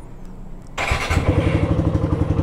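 A loud motorcycle with an Akrapovic exhaust, silencer removed but dB killer fitted, fires up and settles into a rough, rapid, pulsing idle.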